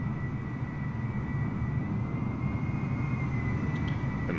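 Britten-Norman BN2 Islander flight-simulator scene at an airport, with a steady, broad engine rumble and hiss that stays constant throughout, no talking.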